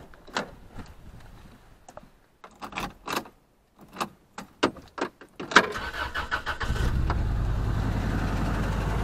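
Toyota Previa engine cranking and starting after a spark plug change, with a few clicks and knocks of keys before a brief crank, then the engine catching into a steady, loud idle rumble.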